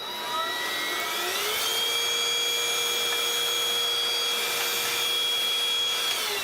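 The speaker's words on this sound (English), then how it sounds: "So I'm gonna vacuum that up. Sorry about the noise." A loud vacuum cleaner whirs steadily up to full speed with a high whining tone, running continuously and close by with no talking.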